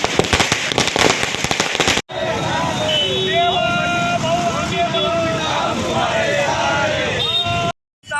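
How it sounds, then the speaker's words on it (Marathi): Firecrackers burst in dense, rapid crackling volleys at a street celebration by political party workers at a city square in Dhule, with crowd noise and distant cheering continuing after the first loud barrage. "भाजपच्या कार्यकर्त्यांनी फटाक्याची आतिषबाजी करत जल्लोष साजरा केला"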